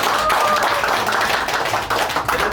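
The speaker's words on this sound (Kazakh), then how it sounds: "бір әкемізге бір шапалақ соғып қояйық" An audience at a Kazakh birthday celebration claps for the father, a brief burst of dense, close applause with a faint voice mixed in.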